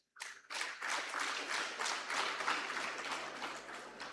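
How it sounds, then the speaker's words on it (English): Audience applause breaks out at an investment summit in Nasarawa, a burst of clapping that starts abruptly and holds steady and fairly close for several seconds. "A round of applause, please."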